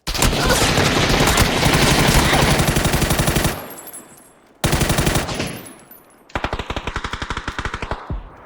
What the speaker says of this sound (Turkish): adam buradan bir yerden sıkıyor lan